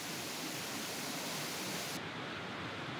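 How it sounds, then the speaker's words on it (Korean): Rotefossen, a 165 m twin waterfall in Norway that splits into two streams beside the road, gives a loud, steady broadband roar of rushing water at close range with no voices. "165m를 흘러내리는 폭포"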